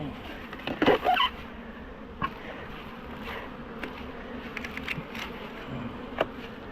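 Honey bees buzz around apiary hives, a faint, steady droning hum with a few louder passes close by and light clicks and rustles scattered through.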